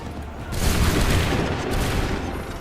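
A massed volley of musket fire in Assassin's Creed III, a loud, dense crackling burst of many near-simultaneous shots that swells and rolls on into a rumbling echo across the field.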